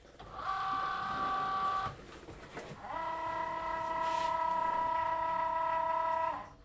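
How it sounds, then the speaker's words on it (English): A Cricut Joy Extra cutting machine reads registration marks for print and cut, giving a steady mechanical whine in two runs with a short pause between them, close and fairly quiet. "what it's doing now is it's just reading the registration marks for the print and cut"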